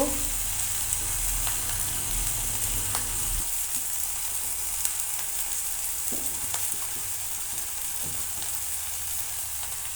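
Chickpeas and green peas sauté with Kashmiri chilli powder, green chilli and cumin in a pan with a little water, giving a continuous close sizzle and frying hiss with occasional stirring scrapes and no voices.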